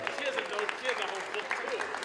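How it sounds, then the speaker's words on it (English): Wedding reception guests applaud for a guest called up to speak, a moderate patter of clapping running beneath a voice talking over it. "Big round of applause for Samantha"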